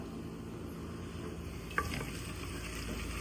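Ingredients for pepper chicken sautéing in a pan: a steady, quiet sizzle with faint stirring scrapes and one brief clink partway through.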